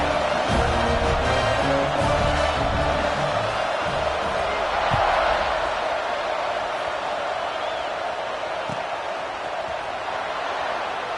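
Stadium crowd at kickoff in the College Football 26 video game, a steady loud roar of cheering and whooping that fills the whole stretch, with a few thuds and swells rising through it.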